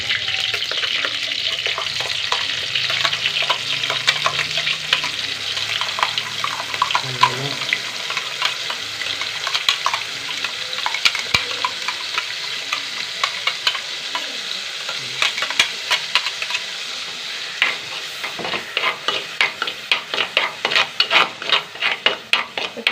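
A paste of ground onion and tomato for a coconut-free curry sizzles steadily in a pan while being stirred, with a spoon scraping and clattering in a quickening rhythm toward the end.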